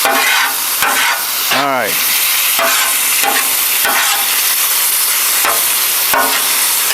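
Philly cheesesteak filling sizzling and frying in a pan, a steady close hiss with occasional stirring scrapes and a brief clang, while someone says a couple of words.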